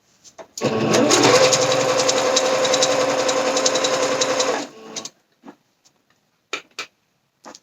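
A sewing machine runs a long basting stitch for about four seconds in one steady, loud mechanical whir, followed by a few short clicks and handling noises.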